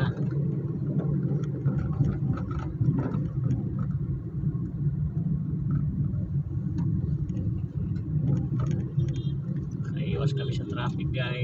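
Heavy traffic on a busy road in Balut, Tondo, Manila: engines idle and rumble continuously nearby, with scattered clatter and brief higher sounds toward the end, and voices talk over the steady drone.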